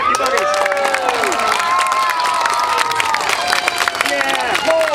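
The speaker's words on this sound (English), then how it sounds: "Clap, you buggers!" A crowd cheers and shouts loudly with clapping mixed in, voices rising and falling in a dense, continuous roar.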